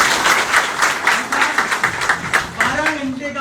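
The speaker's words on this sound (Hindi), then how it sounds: "इनके लिए जोरदार तालियां" An audience at a workshop breaks into loud, sustained clapping, a dense rhythmic patter running steadily for a few seconds, with a voice briefly audible near the end.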